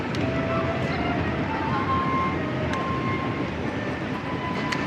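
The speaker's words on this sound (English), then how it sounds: "Try not to walk out in front of the constant trams." A tram rolls along a street in Geneva, a loud continuous rumble with metallic squeals from the rails and faint clicks, steady throughout with no speech.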